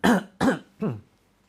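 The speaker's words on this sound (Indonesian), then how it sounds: "Batuk-batukan." Three loud, close coughs in quick succession, each a short harsh burst about 0.4 seconds apart, the last weaker, then quiet.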